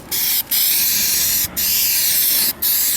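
An aerosol can sprays paint onto car trim molding in three long, loud hissing bursts, each about a second long, separated by short pauses, close up with no talking.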